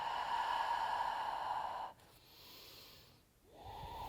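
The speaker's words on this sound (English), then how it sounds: "Breathing in and breathing out." Slow, audible yoga breathing during a beginner session, with a long steady exhale that stops, a quiet pause, then another breath beginning, close and fairly soft, with no speech.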